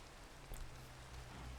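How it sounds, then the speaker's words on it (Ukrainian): Rain starting to fall in a village yard, a soft steady patter of drops on surfaces with a low continuous hum underneath, quiet and even throughout. "дощ пустив"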